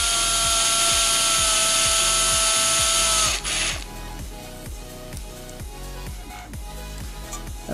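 A power drill boring into a wooden pinball playfield whines steadily for about three seconds, then cuts off, leaving rhythmic mechanical clicking and scraping close by.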